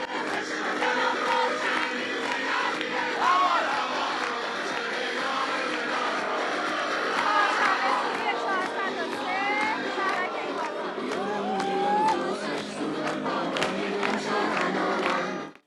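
A huge protest crowd in Tehran, Iran, a dense wall of many voices shouting and chanting together, loud and sustained throughout with no pause.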